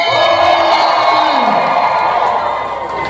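A large crowd cheers and shouts loudly in one sustained roar of voices, tapering off slightly toward the end, at a political rally in Quezon City.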